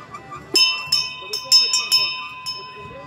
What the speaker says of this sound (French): Ça sonne la cloche.